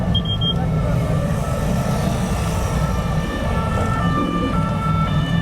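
A police siren wails steadily through heavy night traffic on the Champs-Élysées in Paris, loud and close amid engine rumble and street noise.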